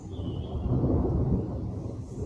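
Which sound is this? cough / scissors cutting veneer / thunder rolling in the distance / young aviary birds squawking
thunder rolling in the distance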